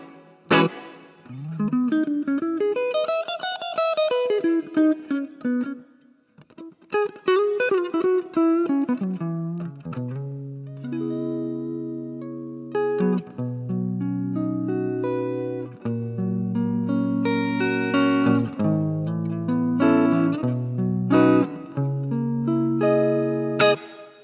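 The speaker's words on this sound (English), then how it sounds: "And then I put a plate reverb on the GT8." An electric guitar through a BOSS GT8 multi-effects unit with plate reverb plays single notes and then chords, each ringing out into a lush, lingering reverb tail.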